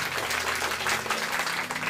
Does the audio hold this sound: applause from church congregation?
yes